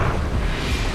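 Confringo blasting curse exploding in the Hogwarts Legacy video game, a dense, loud, sustained roaring rumble with broad crackling noise filling the whole second and no voice.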